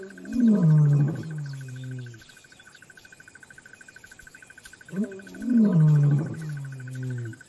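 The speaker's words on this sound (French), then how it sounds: "Leurs rugissements mettent les lionnes et leurs petits en alerte." Male lions in the South African bush give two deep, drawn-out roaring bouts several seconds apart, with crickets chirping steadily through the quiet gap between them.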